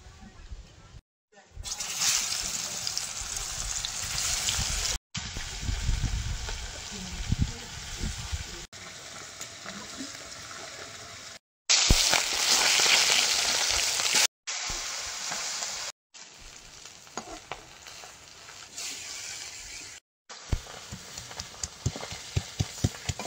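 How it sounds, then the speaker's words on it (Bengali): Bashpata river fish fry in oil over a clay oven, a dense continuous sizzle and crackle close up, interrupted by short cuts and stirring, with occasional voices beneath. "মাছগুলো প্রথমে ভেজে নেব।"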